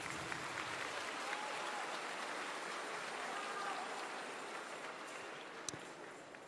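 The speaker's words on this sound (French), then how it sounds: "On peut les applaudir." Applause from a school audience at a FRAT 2023 gathering for final-year students, a steady, dense wash of clapping that sounds hissy and rain-like, held at an even level and fading slightly toward the end.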